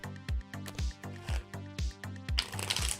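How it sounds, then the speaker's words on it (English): Tarot cards are shuffled by hand close to the microphone in a regular rhythm of soft thumps and papery riffles, growing busier toward the end, with no talking. "you don't feel like watching all the shuffling I'm doing"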